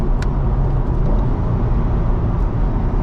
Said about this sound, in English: Close, we'll do another downshift.